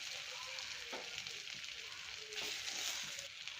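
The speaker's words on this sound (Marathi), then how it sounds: "आता आपण कमी गॅसवर छान हे लाडू व्यवस्थित परतून घेऊ" Banana and semolina ladoos fry in ghee over a low flame, giving a faint, steady sizzling hiss with soft crackles and occasional light utensil sounds.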